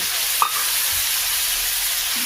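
Spice paste goes into a hot pan of vegetables: a close, continuous sizzle and frying hiss with a brief scrape or tap near the start.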